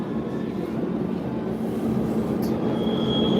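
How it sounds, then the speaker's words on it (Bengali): Steady, loud rumble of a metro train heard from inside, with a brief high squeal partway through and a faint whine near the end. "আমি মেট্রোর ভিতরে"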